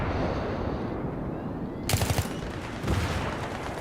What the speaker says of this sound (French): On va lancer une petite grenade là-bas.